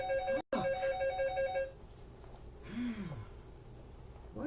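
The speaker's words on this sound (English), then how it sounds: "What is the phone going crazy for?" A telephone ringtone repeats in a steady electronic pattern, loud and close, then breaks off, followed by a quieter stretch with a faint breath-like sound.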